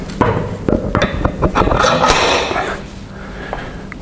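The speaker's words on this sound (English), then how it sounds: "We put the big nut back on." Metal clanks, knocks and a ratcheting rattle come close up and loud as the large nut is fitted back onto an English wheel in a metal shop, settling into quieter taps by the end.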